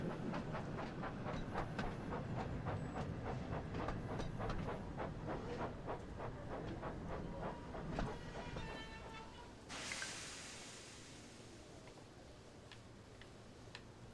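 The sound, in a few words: train braking into station, video game Thomas & Friends: Wonders of Sodor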